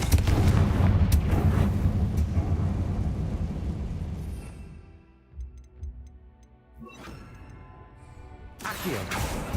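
A fire spell explosion booms in Hogwarts Legacy, a loud dense blast that fades over a few seconds into quieter game ambience, followed by a couple of softer hits.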